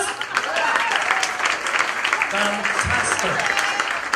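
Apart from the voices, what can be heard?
audience applause for volunteers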